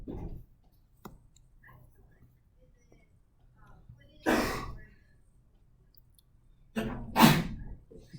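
A sharp sneeze near the end, following a breathy sigh-like burst, otherwise a quiet room with faint scratching.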